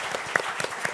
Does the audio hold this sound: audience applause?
yes